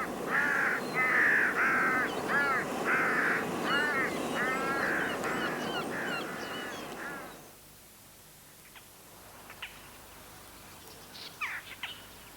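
All-black carrion crows caw in a loud, rapid series of harsh, repeated calls, then fall away to near quiet with only a few faint, distant calls.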